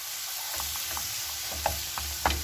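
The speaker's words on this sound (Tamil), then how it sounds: "இப்போ நாங்கள் ஒருக்கா நல்லா கிண்டி விடுவோம்" Ivy gourd (kova) being sautéed in a pan gives a soft, steady sizzle while a spoon stirs it with several faint scraping taps; no talking.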